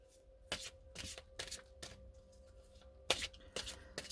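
Lenormand fortune-telling cards being shuffled in a series of quick riffled bursts, each a soft papery rustle, close and fairly quiet over a faint steady hum, with no talking.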